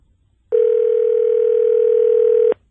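A telephone dial tone sounds steady and loud for about two seconds after a short silence, then cuts off abruptly, heard alone while a call is being placed.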